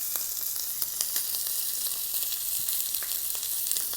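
Fat from a prime rib steak renders on a hot grill pan with a steady, close sizzle, scattered small pops crackling through the continuous hiss.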